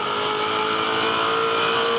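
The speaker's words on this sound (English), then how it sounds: "Listen to him, bang down the gears." A 2009 V8 Supercar with an H-pattern gearbox roars at a steady high pitch from onboard on the Townsville street circuit, loud and continuous, with no distinct downshift breaks.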